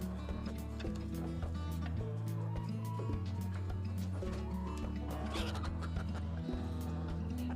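Young chicks cluck in repeated soft bursts over a steady low background hum. The clucking is close and fairly faint, with no talking.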